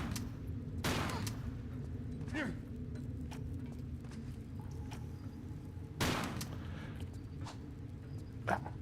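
Gunfire in the Tomb Raider IV remaster video game: a few separate sharp shots, one near the start, a louder one around the middle and another at the end, over a low steady game ambience.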